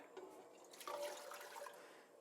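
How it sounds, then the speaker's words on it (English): Two cups of apple cider vinegar pour into a pan on a lit burner, a faint steady splashing rush lasting a couple of seconds with no talk. "I have 2 cups of apple cider vinegar. I'm going to add that to the pan."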